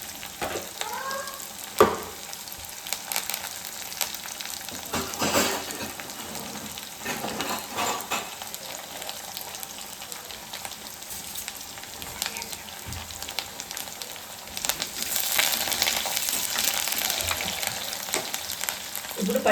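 Crushed garlic and curry leaves fry in hot oil with a steady, close sizzle and crackle, swelling louder toward the end, with no one speaking.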